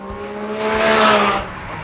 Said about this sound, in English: They've only gone and done it, a Cayman with a GT3's engine.